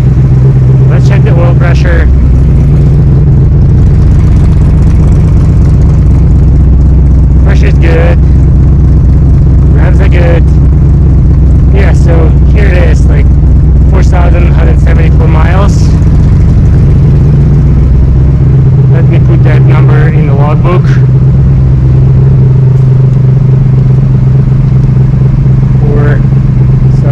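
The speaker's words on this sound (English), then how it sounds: "So engine runs well." The engine of a Shelby Cobra replica runs steadily close by, a loud, deep rumble that fills the whole stretch with slight rises in pitch, while a person talks intermittently over it.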